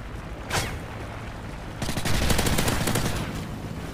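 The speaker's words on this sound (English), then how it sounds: "how many rounds is it gonna take for me to put into him?" Gunfire from the video game Modern Warfare 3: a single loud shot early, then a rapid burst of automatic rounds lasting over a second, fairly close and prominent.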